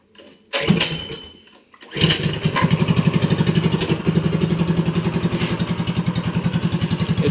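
A Predator 212cc small engine fitted with a homemade header built from a weed eater pipe is pulled over, sputters, then catches and runs with a loud, rapid, rattling exhaust pulse close by.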